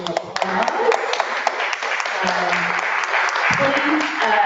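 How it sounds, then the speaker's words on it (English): Audience applause at a Bay Area learning community gathering forms a steady wash of clapping, with voices talking over and among the claps. "Let's give another round of applause."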